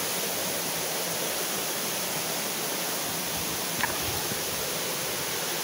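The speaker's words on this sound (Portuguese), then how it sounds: "Terceira queda, agora vamos para ver aqui a terceira queda." Rushing water at the third drop of the Sete Quedas waterfall in Brazil, running low after a lack of rain, a steady broadband roar that fills the scene evenly throughout with no voices over it.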